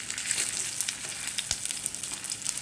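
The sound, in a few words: frying rava cutlets in oil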